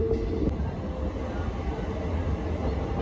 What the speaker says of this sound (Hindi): अभी हमारी ट्रेन यहाँ से चल दी है अमृतसर के लिए।